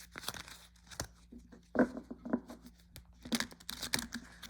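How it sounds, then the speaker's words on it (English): Crisp papery riffling and soft card slaps in short bursts, close by, with brief pauses between shuffles. "They shuffle really well."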